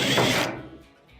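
A ratchet tool backs out 1/4-inch screws from a clothes dryer's front panel, a quick loud burst of clicking and whirring that cuts off abruptly, followed by a faint mechanical tail.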